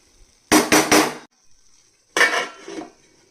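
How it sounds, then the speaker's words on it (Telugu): A metal lid is set back onto a cooking pot of simmering ivy gourd curry, giving a cluster of loud clattering clanks followed a moment later by a second scraping clatter, close up in a quiet kitchen. "మళ్ళీ మూత పెట్టుకొని"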